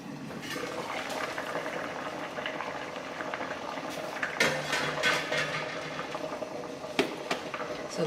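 Water rolls at a boil in a canning water bath holding jars of tomato jam, a steady bubbling churn close by. Small clinks and louder splashy bursts break in now and then, with no talk.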